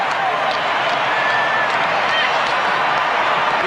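A football stadium crowd at a French Cup match applauds and roars, a continuous, distant wall of clapping and cheering that stays level throughout.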